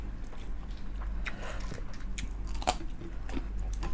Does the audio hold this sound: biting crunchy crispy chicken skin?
yes